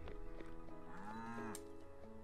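Cows mooing in the farming video game Staxel, one drawn-out low moo rising and falling in pitch amid a soft background of game sounds, no speech.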